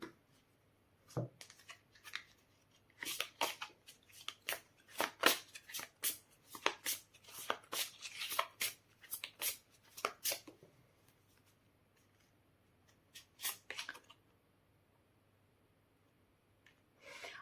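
Goddess oracle cards shuffled by hand at close range in a quiet room, producing rapid bursts of crisp riffling and flicking strokes, then a lull and a few final shuffles.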